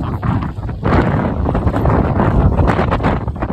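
Strong wind on a trekking trail at Devaramane buffets the microphone in a loud, continuous rumbling roar that surges slightly, close and with no voices.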